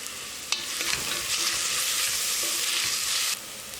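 Sliced onion with crushed green chillies frying in a pan for a soya chunks kadala curry, a loud, even sizzle with a clatter as the chillies drop in and a few stirs, no voices.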